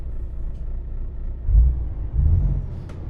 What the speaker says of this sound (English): let's start up the truck.